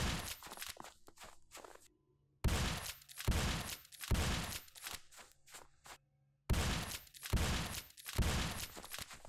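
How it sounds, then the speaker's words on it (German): Gunshots ring out in the Western game Lonesome Hack and Slay, a series of sharp, loud bursts in uneven clusters separated by brief quiet gaps. "Er schießt zweimal drauf und er schießt immer noch ein drittes Mal"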